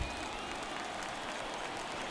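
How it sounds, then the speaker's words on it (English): A stadium crowd cheers and applauds during a World Series game in a baseball video game, a steady, fairly faint roar that holds evenly from start to finish. "because the crowd was cheering"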